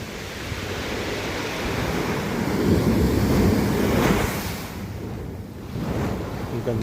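Waves break on the beach at Baler in a steady, loud wash of surf mixed with wind noise. The roar builds to a peak midway, drops back, then surges briefly again.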